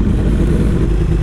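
Motorcycle engine revving at a gas station, a loud, close, continuous rumbling roar with slight throttle flutter over one short burst.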